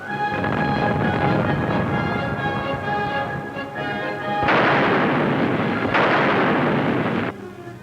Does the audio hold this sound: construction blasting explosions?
yes